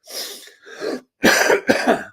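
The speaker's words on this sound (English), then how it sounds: "I keep coughing" Several harsh coughs and throat-clearing bursts from one nearby person, two short rough bursts followed by a pause and then two louder, heavier coughs.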